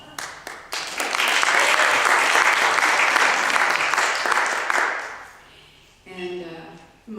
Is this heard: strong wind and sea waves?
no